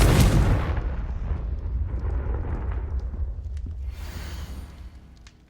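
A Confringo spell explosion in Hogwarts Legacy goes off as a loud, booming blast that starts sharply and then rolls on in a long rumbling decay, slowly fading out over several seconds.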